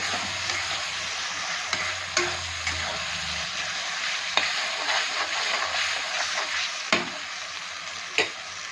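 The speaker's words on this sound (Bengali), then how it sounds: "দেখুন আদা রসুনটা কিন্তু আমি ভালো করে ভেজে নেব।" Ginger garlic paste fries with a steady hiss in hot oil while cooking mutton, punctuated by occasional clinks and scrapes of a spoon stirring.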